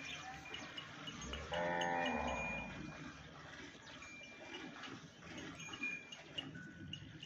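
Cows and Nili-Ravi buffalo at a Pakistani livestock sale moo in a loud, drawn-out call near the start, followed by quieter farmyard shuffling and faint lowing without talk.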